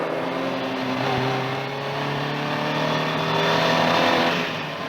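A Spitfire sports car drives hard on a race track, its engine holding a steady, loud drone with a subtle rise in pitch, heard up close without talk.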